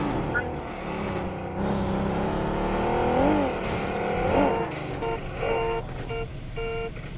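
A car engine hums and revs while being driven in a video game, a steady rumble with a few rising surges, while people talk over it throughout.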